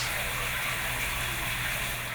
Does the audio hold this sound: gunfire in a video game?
no